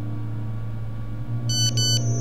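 A telephone ringing in the horror video game Cry of Fear: two short bursts of electronic trilling ring, close and clear, over a steady low ambient drone.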